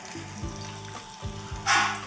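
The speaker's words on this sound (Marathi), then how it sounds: "यामध्ये हे वडा सोडूयात आणि मीडियम हीटवर, खूप हाय हीटवर नाही तळायचे" Steady sizzling of vada deep frying in hot oil over medium heat, with a brief burst of louder crackling and spattering near the end.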